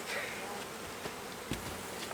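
A dense swarm of bees buzzes around a large hive being removed from an abandoned chicken barn, a constant close droning hum with faint knocks and scrapes.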